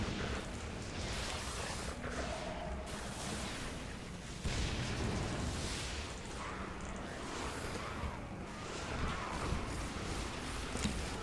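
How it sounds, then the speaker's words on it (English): Repeated explosions and heavy bursts in the action game Hellgate: London during the Stonehenge fight with the Oriax boss, a loud dense barrage of booms running continuously with no clear gaps. "whoa, there's explosion."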